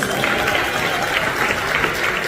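An audience at a theater talent and fashion show for older people breaks into steady, dense applause that fills the hall evenly, with faint crowd voices mixed in.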